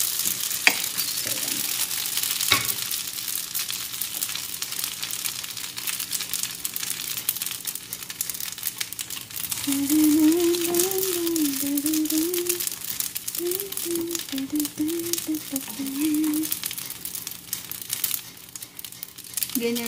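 Capsicum and hotdog sizzle in a non-stick pan with butter, a steady close frying hiss with occasional stirring scrapes and crinkles, while a voice hums or sings briefly partway through.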